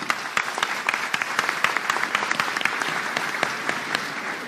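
Audience at a panel session breaks into loud, dense applause, many hands clapping in a sustained burst with sharp individual claps standing out throughout.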